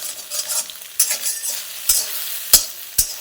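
Soybeans fry in a pan and are stirred steadily, with a continuous close sizzle broken by several sharp spoon scrapes and knocks against the pan.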